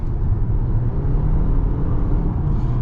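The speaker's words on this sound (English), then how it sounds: "you hear that CVT gearbox combined with that 4-banger" A Lexus RX450h+ four-cylinder engine with a CVT gearbox drones steadily under acceleration, a loud, even hum with a smooth, constant pitch and no gear shifts.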